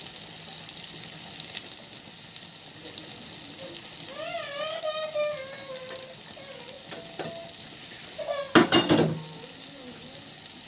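Shredded cabbage for egg noodles is stir-fried in a hot pan, a steady close sizzle with scraping stirs, squeaky utensil tones midway and a louder clatter near the end.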